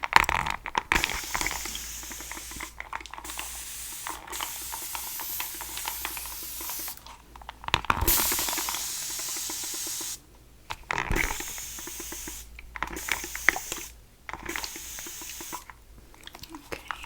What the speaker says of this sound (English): now we'll go ahead and spray you down.